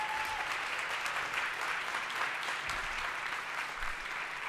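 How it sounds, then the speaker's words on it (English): Steady audience applause at the AI for Good Global Summit, a sustained wash of clapping from a large crowd at even loudness throughout. "a massive round of applause"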